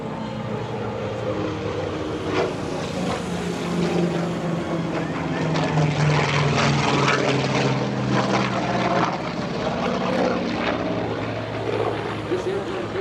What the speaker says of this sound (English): watch again from the right as Jim Tork Tobul approaches in this beautiful F4U dashboard Corsair, one with a great combat history.